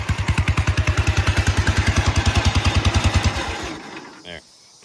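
A Massey Ferguson riding lawn mower's small engine idles with a steady, rapid pulsing chug, close and loud, then winds down and cuts off, leaving near-silence after a brief clunk.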